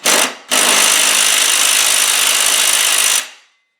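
A small electric impact driver whirs steadily while tightening bolts on a Cub Cadet ZT1 lawnmower, a loud, close, continuous buzzing run of about three seconds after a brief first burst, with no talk.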